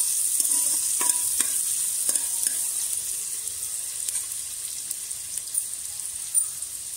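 Finely chopped medium onion frying in hot oil for a mutton rice dish, a steady close sizzle with a few light stirring scrapes, no voices.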